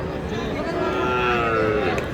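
Cattle low loudly and steadily at a busy livestock market in Dinajpur, with crossbred Friesian bulls and calves for sale, one drawn-out moo dominating over a constant background murmur.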